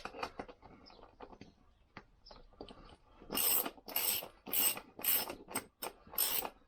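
Ratchet wrench tightening the rim nuts on a Lambretta scooter wheel in diagonal order during a wheel rebuild, heard as bursts of rapid, close, loud clicking in a steady rhythm after some quieter handling noises.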